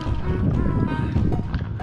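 A group of about ten or more horses with their caretakers moves about at a riding stable in Riyadh, hooves thudding in a busy low clatter, with people talking nearby over the sound.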